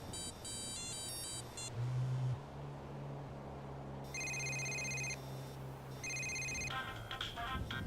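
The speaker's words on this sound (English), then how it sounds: "we can change our ringtone. What we got?" Phone ringtones cycling in GTA roleplay, bright electronic chimes and melodic rings coming in short repeated bursts and changing pattern, with faint background game sound between them.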